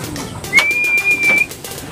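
Pigeons released from a loft to fly rounds give a few soft coos and a brief whistling call, close and moderately loud over quiet outdoor background, with no talking.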